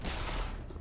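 A single loud, close shotgun blast in Black Mesa, a dense broadband boom that decays over nearly a second.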